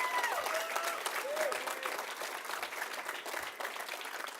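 Banquet audience applause at the Motor Press Guild awards for racer Parnelli Jones, steady close clapping with cheers and whistles over it and voices mixed in throughout.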